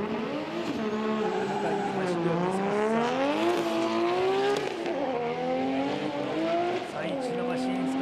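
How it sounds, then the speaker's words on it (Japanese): A Nissan Skyline drift car in Formula Drift Japan qualifying at Okayama dives into the first corner, its engine note rising and falling with tire squeal, loud and continuous beneath an excited commentator's voice. "最中のマシンスカイライン1コーナー飛び込んでいく。"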